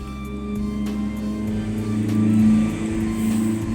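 A car drives by outside at night, its engine rumble swelling and fading over several seconds as background noise, steady and moderately loud with no talk.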